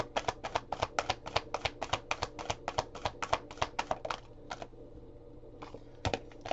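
Tarot cards being shuffled by hand, a fast run of crisp rhythmic riffling clicks that pauses briefly before a few final snaps, close and clear with no talk.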